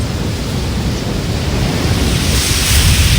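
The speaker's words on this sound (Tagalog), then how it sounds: "sobrang lakas ng hangin kasi and then, ang lakas din ng alon" Strong wind roars across the microphone while waves crash and surge at a beach, a loud continuous wash of noise with no talking.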